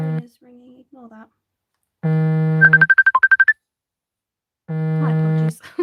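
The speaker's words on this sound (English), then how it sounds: "sorry, my phone is ringing" A mobile phone rings with sustained buzzy electronic tones and a rapid burst of bright melodic beeps, the pattern recurring in loud, close bursts separated by silence.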